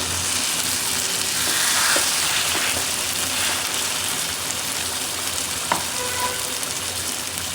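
Shrimp and pointed gourd sizzle and fry steadily in a pan, a dense crackling hiss with a few sharp stirring clinks, close and continuous with no talking.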